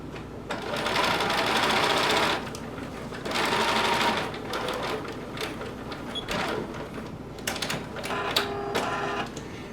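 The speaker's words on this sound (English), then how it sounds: "lift your presser foot and sew across the bottom" A sewing machine stitches across the bottom edge of a fabric top with leather accents, running in two long steady bursts, then lighter stop-start whirring and clicks, close and loud with no talking.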